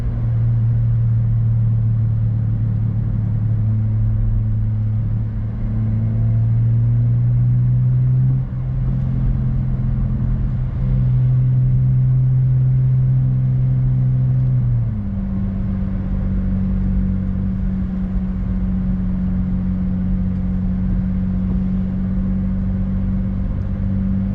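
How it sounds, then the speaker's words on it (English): A Dodge Challenger with an all-wheel-drive V6 engine is driven on a wet road, its steady engine drone heard from inside the car, with the pitch rising and then settling as it shifts, and no talk. "I think it's the best V6 sound you can really get."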